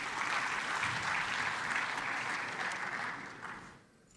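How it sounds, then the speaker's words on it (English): Audience applause after a speaker is introduced at an event on African borderlands security, a dense, even wash of many hands clapping that holds steady and then fades out near the end. "Let's welcome with a hands of applause, please."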